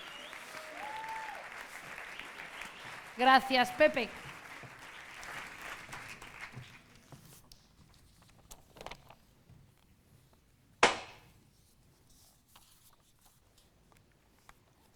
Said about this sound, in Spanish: Fuerte ese aplauso a nuestra presentadora, por favor.